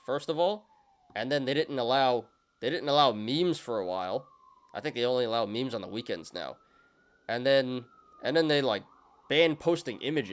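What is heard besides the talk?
emergency vehicle sirens outside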